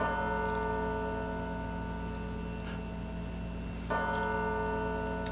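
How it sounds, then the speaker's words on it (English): Steady ringing bell tones open a song from an album, sustaining over a dense musical drone, with a fresh strike partway through, loud and continuous, without voices. "Starts off with the bells."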